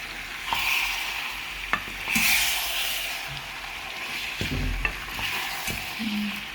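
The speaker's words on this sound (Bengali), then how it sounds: "আমি এটা পানি দিব না, শুধু পানি ছাড়া মাংসটা রান্না করবো।" Meat for Bangladeshi kala bhuna stirred and fried in a pan without water, a steady sizzle broken by intermittent scraping stirs of the spoon, close and moderately loud.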